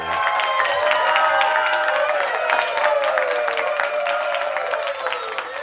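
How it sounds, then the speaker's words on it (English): Applause and cheering from an audience at a virtual meetings awards night, honoring award winner Greg Sanders; steady dense clapping with crowd noise and some voices, sustained throughout at even loudness. "one last round of applause for our good friend, Greg Sanders"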